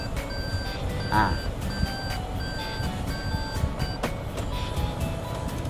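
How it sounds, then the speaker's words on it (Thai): Reverse parking sensor on a 2018 Toyota Camry 2.0 G with automatic transmission, giving a steady train of short, evenly spaced electronic beeps over low background rumble inside the car. "มีเซ็นเซอร์ถอยหลังมาให้เนาะ"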